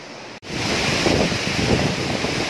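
Gundala waterfall in Telangana roars as a loud, continuous wash of falling water after a brief cut near the start.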